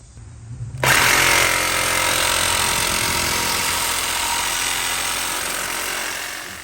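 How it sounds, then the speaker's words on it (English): Power saw blade grinding through a stuck lower control arm bolt and bushing on a 2002 Jeep Liberty, starting abruptly and continuing as one loud, continuous, harsh buzzing cut close up, slowly fading slightly. "And finished cutting the bushing with the bolt."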